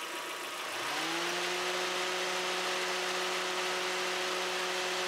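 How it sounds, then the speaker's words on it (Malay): A car air conditioner's fan motor, now running after a faulty relay was replaced, spins up within a second into a steady close whirring hum with a constant tonal drone and airy rush. "sepatutnya kipas ni dia mesti dah boleh pusing"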